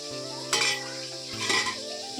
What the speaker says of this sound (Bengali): তারপর কড়াইয়ে মাছগুলো আমি এক এক করে ভেজে নেব।